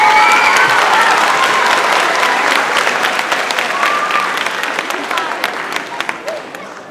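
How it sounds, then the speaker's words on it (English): Sustained audience applause at an 8th-grade promotion ceremony, a dense wash of many hands clapping in a large hall that slowly thins toward the end, with a few voices and whistles mixed in. "how about a round of applause for her efforts tonight?"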